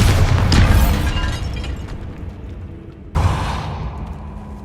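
A Bombarda spell explodes in the video game Hogwarts Legacy with a loud booming burst that decays into a rumbling tail, followed by a second sharp blast around three seconds in.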